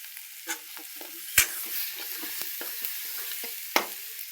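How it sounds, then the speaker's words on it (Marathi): A spoon stirs red chili powder and black masala spice mix in a cooking pan, giving soft scraping sounds with a few sharper clinks and a faint sizzle running underneath. "तांबडं तिखट 2 चमचे, काळा मसाला मस्तपैकी मध्ये असं हलवायचं."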